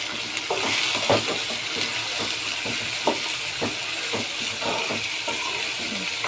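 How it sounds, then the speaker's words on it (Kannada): Tomatoes dropped into a hot frying pan give a steady, close sizzle, with scattered clicks and scrapes of stirring throughout. "ಈಗ ಟೊಮೆಟೊ ಹಾಕ್ತಾಯಿದ್ದೀನಿ."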